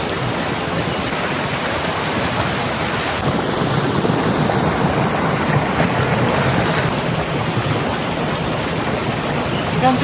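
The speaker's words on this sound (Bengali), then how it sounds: "মন্দিরের ঠিক পিছন দিকটায় কিন্তু একটা সুন্দর একটা জলপ্রপাত রয়েছে" A waterfall behind Kalyaneshwari temple, fed by water from Maithon dam, rushes as a loud, dense, steady roar filling the whole clip, with a voice faintly speaking under it.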